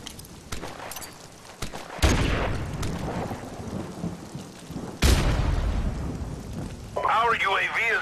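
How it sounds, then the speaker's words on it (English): Airstrike explosions in Modern Warfare Remastered crash in two heavy booming waves, the second hitting hard around the middle and followed by a rolling rumble, with crackling debris and a short burst of radio-style voice near the end. "Friendly airstrike on the way."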